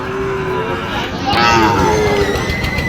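A Sahiwal cow moos in long, drawn-out lowing calls close by at the Ambari cattle market in Dinajpur, mixed with voices talking in a busy outdoor setting.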